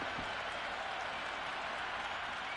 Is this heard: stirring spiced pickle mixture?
no